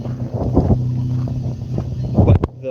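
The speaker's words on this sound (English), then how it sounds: "That's the exhaust, it's alright." Exhaust rumble from a winter truck with a turbo and diverter valve, a loud close low drone with uneven bursts and a sharp surge near the end, heard outdoors with wind noise.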